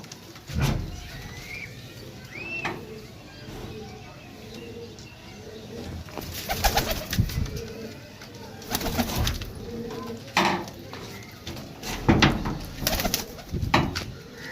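Pigeons coo repeatedly against a busy outdoor background, with scattered louder bursts of noise and some bird calls, moderately close.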